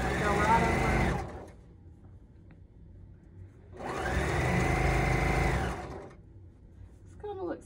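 A sewing machine stitches through thick toweling seams in two sustained whirring runs, each about two seconds long, with a quiet pause between them and a faint high squeak near the end.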